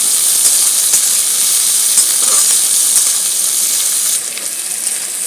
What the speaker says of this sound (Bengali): কাঁকুল আর আলুটা ভাজা হয়ে এসছে